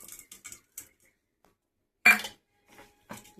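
Metal utensil scrapes and clinks against a pot as fish pieces are tossed with chili powder for a tamarind fish curry, coming in short sparse bursts with one louder clatter near the middle and quiet gaps between.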